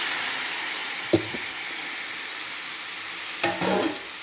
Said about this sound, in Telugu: టమాటా వేసి టమాటాను ఫ్రై చేసుకోవాలండి